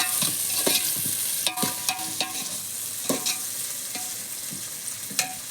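Tomatoes cook in a pan for a village-style stuffed brinjal and fish curry, with steady frying sizzle broken by repeated scraping, clinking stirs of a utensil against the pan.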